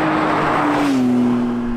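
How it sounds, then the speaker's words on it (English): A Porsche 992 GT3 engine howls with a steady, loud race-car tone whose pitch climbs and then holds as it revs; there is no talking. "It really, really sounds just like a race car"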